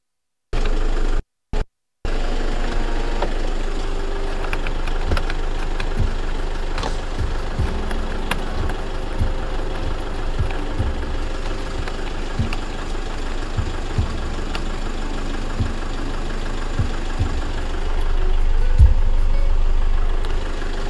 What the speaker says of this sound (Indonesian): ciri khasnya diesel 2KD ya, khas suara dieselnya